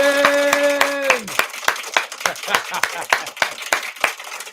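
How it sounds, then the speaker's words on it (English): A small podcast studio audience greets an arriving guest with sharp, uneven hand claps close by, rising right after a held musical tone fades and continuing in a loose burst of separate claps. "I was not expecting the full applause overture."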